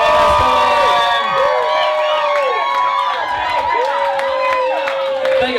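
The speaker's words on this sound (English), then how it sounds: "I want to hear one more huge round of applause for your newlyweds, Mallory and Andrew." Wedding guests cheer and shout for the newlyweds at a reception, a dense, loud crowd roar with whoops and applause that runs steadily throughout.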